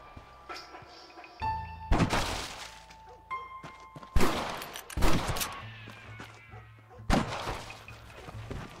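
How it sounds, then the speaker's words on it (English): Gunfire in Red Dead Redemption multiplayer: several loud, sharp shots and bursts go off at irregular intervals, with game sounds and tones in between and no talk. "He's shooting you, Dale."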